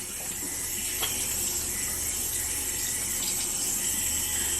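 Steady tap water runs into a sink at a constant, moderate level while face cleanser is rinsed off, a continuous hiss and splash with no talking.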